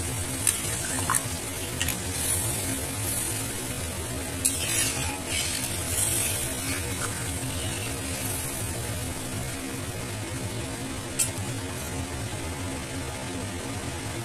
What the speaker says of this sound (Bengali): জলটা দিয়ে আমি খুব ভালো করে আবার মিক্স করে দেবো